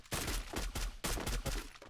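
Rapid bursts of gunfire ring out in a tournament video game match, a string of sharp repeated shots with short gaps, loud and close; no voices are heard.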